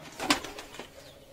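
A single soft coo from Sirazi pigeons in a loft, brief and fairly faint, with a light flutter of wings and no voices.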